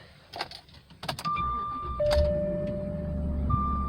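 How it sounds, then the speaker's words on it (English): A Jaguar sedan's engine cranks and fires up, followed by a steady idle rumble with a few electronic chimes over it, heard close with no talking. "Give you a good start up with this car."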